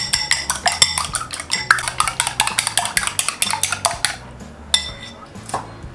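Two eggs being beaten briskly in a bowl for tomato and egg soup, giving a fast run of sharp utensil clicks against the bowl that pauses briefly near the end, close and fairly loud.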